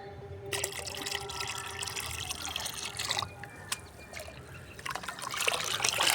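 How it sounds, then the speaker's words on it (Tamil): Water pours and trickles steadily into a container, a continuous splashing stream close by that briefly thins before picking up again. "மிச்ச தண்ணியை இதில் ஊற்றுறோம்"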